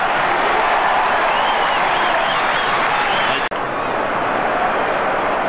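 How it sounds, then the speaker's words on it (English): A large stadium crowd at an Australian football match involving St Kilda roars and cheers in a loud, continuous wash of noise that holds steady throughout, with one brief dropout near the end. "Listen to the crowd."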